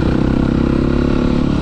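Motorcycle engine held at steady revs while the rider balances a slow wheelie, a loud, close, continuous droning growl without pauses.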